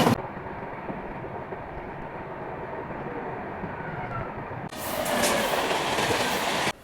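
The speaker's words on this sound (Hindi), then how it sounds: "हावड़ा से टिटलागढ़ वाली जो इस्पात एक्सप्रेस है, आज की जर्नी उसी ट्रेन में होने वाली है" Howrah–Titlagarh Ispat Express running, heard from on board: a steady, loud rumble and rattle of the coaches that gets brighter and louder partway through, with no talk over it.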